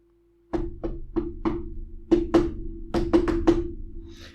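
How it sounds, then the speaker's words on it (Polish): Knocking on a narrow iron-clad door in a deliberate pattern: four spaced raps, then a pair, then a quicker cluster of four, loud and close with a hollow resonant ring. "Nasz przewodnik zastukał do drzwi w szczególny sposób."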